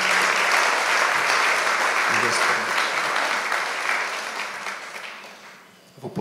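A church congregation applauds for Jesus, dense sustained clapping from a large crowd in a hall that gradually thins and fades out toward the end.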